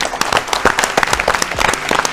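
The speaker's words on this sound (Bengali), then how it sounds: "অসাধারণ খেললেন, একবার জোরে হাততালি" An audience at a televised agricultural quiz show claps loudly, many hands producing a dense, continuous burst of applause that fills the short moment close to the microphone.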